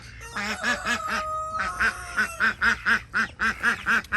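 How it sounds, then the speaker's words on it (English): Backyard ducks in a tropical garden with a small pool quack loudly and close by, a steady run of repeated calls that grows into a regular, rhythmic series of honking quacks. "These are my ducks."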